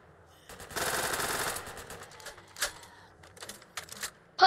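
A machine gun fires in the zombie shooter Go Go Zombie, a dense rapid burst followed by scattered single shots and short volleys, crisp and fairly close with no talk.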